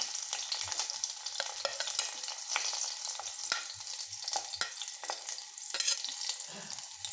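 Onions and green chillies fry in hot oil for a Guntur rasam, a steady close sizzle with scattered crackles and the scrape of a spoon stirring through the pan.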